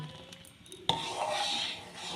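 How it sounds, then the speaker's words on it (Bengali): A spoon stirs and scrapes sago pearls through hot, boiling water in a kadai, a sharp metal knock followed by a steady, close rasping swirl for a couple of seconds. "সাবুদানাগুলো কড়াইয়ের মধ্যে দিয়ে দিচ্ছি। দিয়ে খুব ভালোভাবে নাড়তে থাক।"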